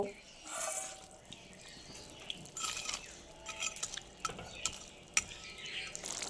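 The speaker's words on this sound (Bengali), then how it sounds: "ঝোল ফুটছে" Spicy tangra fish curry broth bubbling in a pot, irregular soft pops and gurgles with a few sharper clicks, fairly quiet and close, with a voice briefly underneath.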